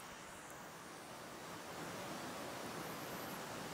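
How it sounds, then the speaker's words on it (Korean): Banias waterfall sends down a steady, dense roar of rushing water, a broad unbroken wash of noise that holds constant and slightly swells toward the end. "여기가 바니아스 폭포입니다"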